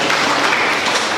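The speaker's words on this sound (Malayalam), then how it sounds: "നമുക്ക് അച്ഛനെ ആദരപൂർവ്വം കൈയടിച്ച് സ്വാഗതം ചെയ്യാൻ" An audience claps steadily in a dense, close burst of applause, welcoming a guest onto the stage at a family gathering.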